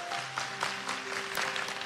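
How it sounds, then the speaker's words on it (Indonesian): A church congregation applauds during a sermon, a steady, dense wash of many hands clapping at moderate volume, with a faint sustained tone lingering underneath. "Kasih tepuk tangan untuk Tuhan."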